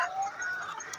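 Egg-laying hens on a poultry farm give a brief, faint cluck or two in a quiet barn, with no talk over them.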